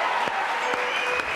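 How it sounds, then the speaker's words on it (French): A studio audience on a French television variety show applauds, a dense, steady wash of clapping that fills the whole moment close and loud. "avec Charlie, que je vous demande d'applaudir."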